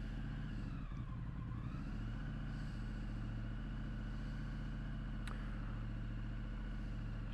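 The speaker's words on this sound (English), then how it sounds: "Okay, let's start her up." A 2019 Triumph Street Scrambler motorcycle engine turns over and settles into a steady, close, low idle rumble that continues throughout, with no speech.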